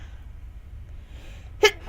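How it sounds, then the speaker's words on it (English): A single short, sharp sneeze bursts out near the end, close and loud against a quiet low background hum. "Man, I just got the sneezes today"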